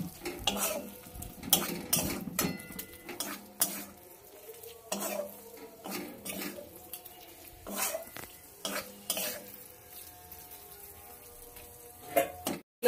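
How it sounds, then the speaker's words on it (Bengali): A spatula stirs and scrapes mutton masala curry frying in a pan, irregular metallic clanks and scrapes over a soft sizzle, close and fairly loud, with no talking. "ভাজা করে নিচ্ছি"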